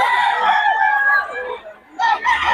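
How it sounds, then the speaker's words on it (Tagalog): Fighting roosters crowing close by, one long loud crow followed after a short dip by the start of another. "Susolid yung mga manok ng Boss Tony."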